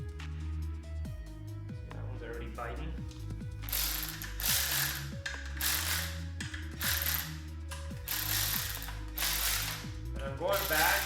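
A ratchet clicks in repeated bursts while snugging the cam bolts on a BMW E36 M3 S52 engine during a rebuild, close up and fairly loud, with short pauses between the runs of turns.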